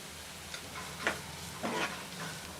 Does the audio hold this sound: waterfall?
no